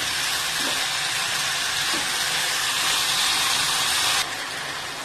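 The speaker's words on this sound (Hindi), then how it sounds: "इसमें मैं चॉप किया हुआ आलू डाल रही हूँ।" Chopped potatoes sizzle in a hot pan for a dish of aloo and pyaz with shimla mirch, a steady, loud frying hiss that drops slightly near the end.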